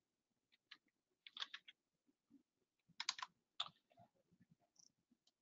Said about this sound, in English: if I type in Powerflex 40